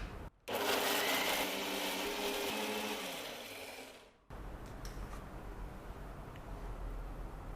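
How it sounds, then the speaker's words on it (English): A mixer grinder purrs loudly as it grinds tomatoes, green chilies and ginger garlic paste. It runs for about four seconds, winds down and stops, and a quiet room follows. "Now let's grind this to a paste."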